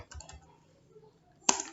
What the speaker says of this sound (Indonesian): langkah pertama yang kita lakukan adalah mengetik perintah